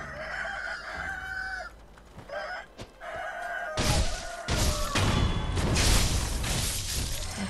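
Roosters in the Sekiro video game crow loudly and repeatedly, with clucks between the crows, and crashing, smashing combat noise grows louder toward the end.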